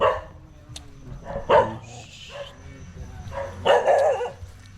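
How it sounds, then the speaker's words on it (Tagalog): A few sharp dog barks ring out at moderate distance, spaced irregularly, over low outdoor rumble and faint background voices. "Aso pa."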